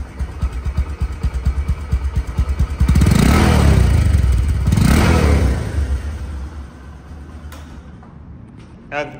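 A second-hand Bajaj Discover 125cc motorcycle idles close by, then revs loudly in two swells before dropping back to a smooth idle; a brief clatter comes near the end.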